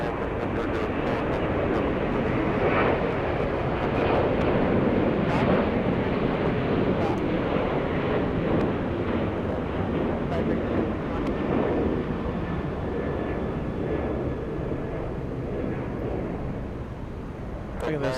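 A jet airplane on short final landing at Atlanta Hartsfield-Jackson airport, a broad continuous roar with wind buffeting throughout.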